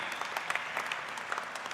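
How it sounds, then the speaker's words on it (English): Audience applause at the 13th Bharatiya Chhatra Sansad student parliament event, a steady wash of many hands clapping at moderate, slightly distant level with no talk over it. "A big round of applause"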